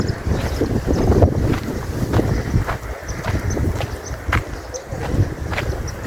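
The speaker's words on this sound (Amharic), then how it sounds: "ነፋሱ እንግዲህ የተፈጥሮ ጉዳይ ነው፣ ምንም ማድረግ አንችልም።" Strong gusting wind buffets the microphone outdoors at a village grain-threshing site, a continuous loud low rumble with brief surges and no clear voices.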